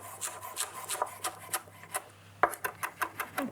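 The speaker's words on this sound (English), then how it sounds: "Okay, just run your knife through it a few times." A knife chops fresh parsley leaves on a cutting board, a quick run of close, rhythmic taps with a short pause and a sharper knock before the chopping picks up again.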